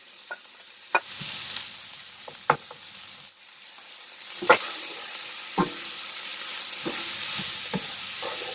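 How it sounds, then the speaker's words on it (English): Onion and garlic sautéing in a pan for potato and cheese soup, a faint steady sizzle punctuated by sharp, scattered clicks and scrapes of a utensil against the pan. "we're going to add our onion. And we're also going to add our garlic"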